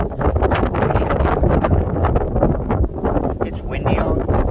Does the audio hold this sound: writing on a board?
no